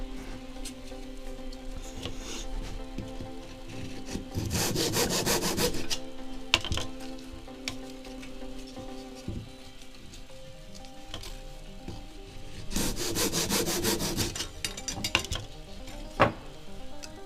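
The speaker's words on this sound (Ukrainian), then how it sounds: "за допомогою лінійки і буду різати зразу по дві деталі" Two thin wooden kumiko strips are hand-sawn together in two bursts of rapid back-and-forth strokes, close and fairly loud, separated by quieter handling sounds and small knocks.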